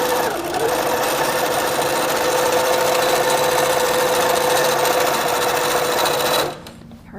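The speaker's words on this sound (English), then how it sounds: "make sure your needle's in the middle and go ahead and sew." A sewing machine stitches satin binding onto a baby blanket, a loud, steady mechanical whir running continuously for several seconds before stopping abruptly near the end.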